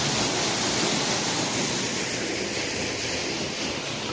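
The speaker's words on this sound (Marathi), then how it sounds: "आणि आता हा पंप चालू केला आहे बघा मित्रांनो, हे पाणी मारतं आहे शक्तीचा सोलर आहे" A Shakti solar water pump running with water gushing hard from its outlet, a loud, unbroken rushing roar that stays constant throughout and masks everything else.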